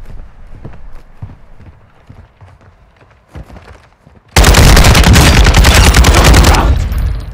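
Gunfire in a first-person shooter video game, scattered soft shots and footsteps building to a sudden very loud sustained burst of rapid automatic fire lasting about two seconds, then dropping away.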